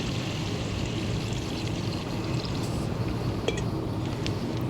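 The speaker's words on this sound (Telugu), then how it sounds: "అవి వేసి బాగా తిప్పుకొని కొంచెం వాటర్ పోసుకొని" Water pours steadily into a pan of frying chicken curry masala with turmeric and chilli powder, making a continuous gushing, hissing wash that stays loud throughout.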